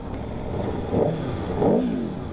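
A 2021 Aprilia Tuono V4 Factory 1100 motorcycle engine with a quickshifter, heard as a close, rising rev that swells twice in quick succession over a steady running drone.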